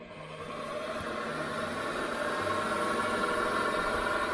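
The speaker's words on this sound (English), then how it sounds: "That's the brushless high torque motor doing that, I think." A SIEG SX2.7 milling machine's brushless motor runs without load at about 1300-1400 rpm, a steady, quiet hum, even and continuous with a faint high whine above a low drone.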